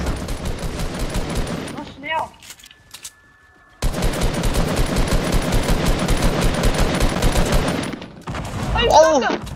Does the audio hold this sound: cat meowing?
no